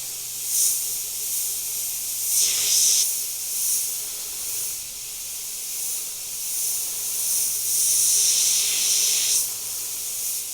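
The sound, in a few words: airbrush spraying paint on a skull design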